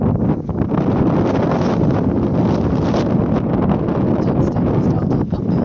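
Strong wind buffeting a microphone outdoors while an air tent is pitched, a loud, continuous roaring rush with gusty rustling, no voices.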